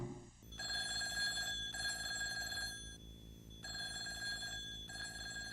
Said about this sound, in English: I know the phone is ringing